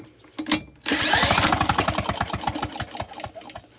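A Lawn-Boy mower's small engine turns over rapidly with a rhythmic chugging and clatter, cranked by a power drill after its brief whir, close and loud.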